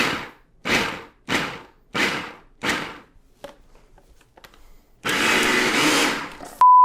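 A food processor pulses flour and cubed fat for tart dough in five quick bursts, each a short motor whir with a sharp start, followed by scattered clicks and then a longer continuous run.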